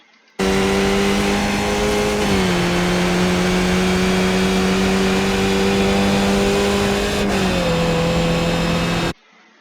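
A race car engine at the Montreal circuit in iRacing: a steady, loud, close mechanical drone that holds a constant pitch, drops slightly twice as the car shifts gear, then cuts off abruptly.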